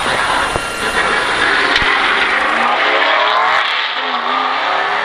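A NASCAR race car's engine fires up and runs loud and close, a steady roaring drone with a brief rev spike, heard on its own while sitting in the pit before a tire change.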